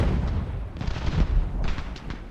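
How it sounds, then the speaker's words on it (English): Cannon fire in the game Ultimate General: Revolution, heard as a dense rumbling barrage of low booms with sharper bursts layered on top, loud and continuous throughout. "How's the cannon fire going?"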